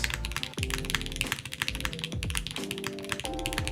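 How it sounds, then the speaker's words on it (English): Rapid clacking of a Haven60 mechanical keyboard, a steady dense stream of keystrokes close up with no voices. "I don't think this is a boring, deep sounding keyboard"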